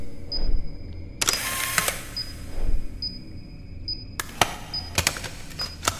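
Camera shutter clicks in the horror video game Crawl, several sharp mechanical snaps with a repeating high electronic beep between them, with bursts of noisy clatter layered over a low background hum.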